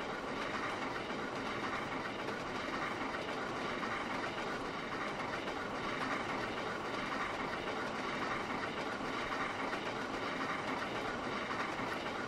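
Steam train rolling along the Settle and Carlisle route in Trainz: A New Era, a steady unbroken rumble of engine and wheels with faint rhythmic clatter running loud and even throughout, no voices.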